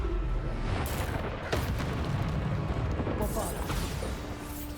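Bombarda spell blasts in Hogwarts Legacy combat, a dense, continuous roar of booming explosions and crashing debris lasting several seconds with a sharp burst near the middle.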